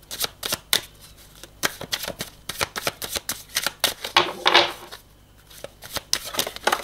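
Tarot cards being shuffled and drawn by hand, a close, crisp run of rapid riffling and flicking bursts with brief pauses between them, without talking.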